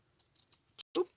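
Scissors snipping paper for a shaker bookmark, a few faint crisp clicks followed by two sharper close cuts at the end, very short.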